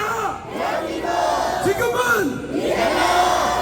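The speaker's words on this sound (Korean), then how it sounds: "진짜 대한민국 지금은 이재명 구호를 힘차게 외쳐보겠습니다." A large crowd at a political rally in Hongdae shouts a slogan in unison, loud rising and falling massed voices with a leader's amplified call mixed in, the chant repeating over echoing ambience.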